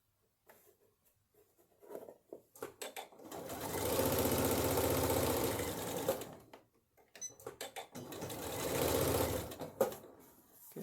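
A sewing machine stitches a garment dart with backstitching, running in two sustained loud bursts separated by short stops, with soft clicks and fabric handling before and between runs.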